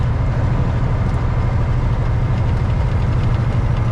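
Vehicle engine driving along a countryside road at dusk, a steady, loud low-pitched drone and rumble from inside the cab, with no talking.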